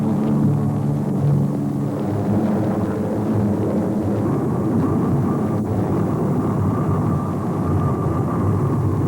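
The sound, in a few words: B-24 bomber aircraft taxiing on the apron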